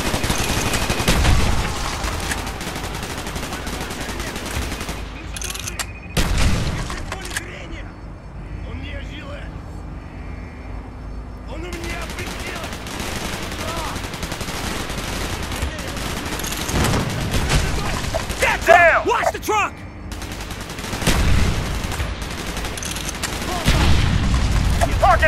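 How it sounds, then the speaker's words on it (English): Gunfire in the Call of Duty Black Ops video game during a mission in a Russian desert: bursts of automatic rifle fire and booming shots, loud and repeated, with pauses and battle noise between volleys. "Gunfire's drawing attention."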